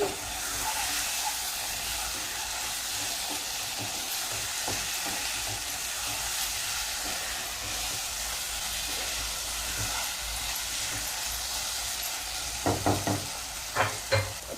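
Chili powder is stirred into a mushroom curry frying in a pan, a steady close sizzle with scraping stirs and a few sharp utensil knocks toward the end, no voices.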